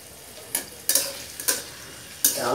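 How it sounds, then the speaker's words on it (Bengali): Potatoes are stirred in a frying pan for mutton keema curry: a low sizzle runs underneath while four separate scraping, clattering stirs sound close by, followed by a louder sizzle. "আলুটা দিয়ে একটু নাড়াচাড়া করে, নাড়াচাড়া করবেন"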